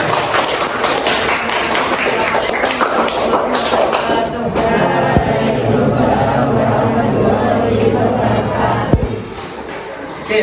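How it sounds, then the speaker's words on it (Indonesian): A classroom group bursts into dense, loud clapping that runs the whole way through, mixed with crowd noise and a few thumps. "Oke, tepuk tangan buat kelompok mereka."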